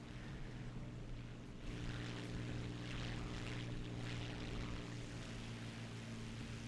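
A P-51 propeller aircraft engine in the video game War Thunder drones steadily and evenly throughout, a low humming engine note that stays at a constant level with no voices.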